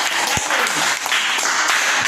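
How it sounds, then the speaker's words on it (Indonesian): Classroom applause for a student group after their presentation, a loud, dense burst of many students clapping together, with a thump or two underneath. "Kita berikan tepuk tangan untuk kelompok Yasin"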